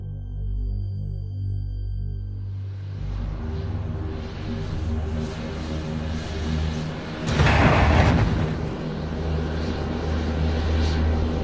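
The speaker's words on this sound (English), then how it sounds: "A 15 kiloton nuclear bomb hits a major U.S. city." Sound effect of a 15 kiloton nuclear bomb striking a major U.S. city: a low rumbling drone builds, then a loud broadband blast bursts out near the middle before settling back into a sustained heavy roar.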